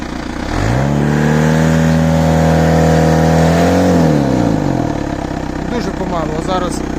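A homemade 4x4 tractor engine runs in low first gear, a loud close mechanical drone that rises in pitch, holds steady, then drops back as the machine crawls along.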